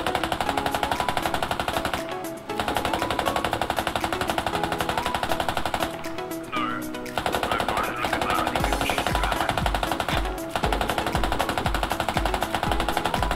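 Sustained gunfire in the video game Squad: rapid, loud machine-gun bursts hammer almost continuously, broken by brief pauses, with a heavier rhythmic thumping toward the end.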